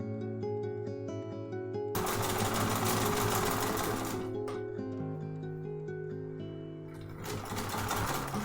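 Sewing machine stitching fabric scraps onto a patchwork cushion: a close, fast mechanical whirr running in bursts with short pauses and changes of speed, no voices.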